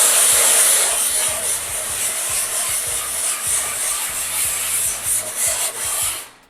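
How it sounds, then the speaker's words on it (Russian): Sandpaper rubbed by hand over wall filler putty to level the surface, a loud close raspy scraping in continuous back-and-forth strokes that fades out at the end. "когда мы наждачкой трем, мы все-таки плоскость эту вышлифовываем."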